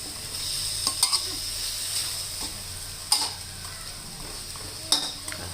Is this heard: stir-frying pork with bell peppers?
yes